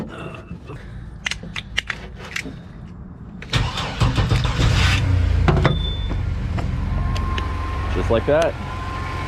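A parts truck's 4.3 engine, barely running for years, cold-starts after a few mechanical clicks and handling noises. It cranks, catches and settles into a loud, rough, steady idle while a person speaks briefly.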